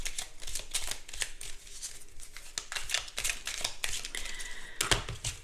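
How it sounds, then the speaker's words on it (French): Lenormand fortune-telling cards are shuffled and drawn by hand, a close run of rapid riffling and flicking card snaps with brief papery slides. "Alors, on va tirer 2 cartes."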